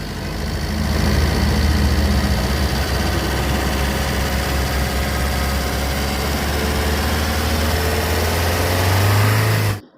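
A Tata car with a Godrej-type engine idles steadily and close by, a continuous low rumble that holds level for about ten seconds before cutting off abruptly at the end.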